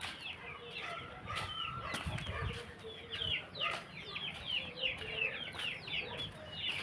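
Chickens and young chicks clucking and peeping in a poultry shed, steady overlapping calls with occasional wing flaps, moderately close and continuous throughout.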